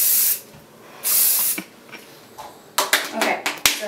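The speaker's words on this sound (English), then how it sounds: "you can definitely spray hairspray" A can of hairspray is sprayed in several long hissing bursts close by, followed by soft clicks and rustles as the hair is handled.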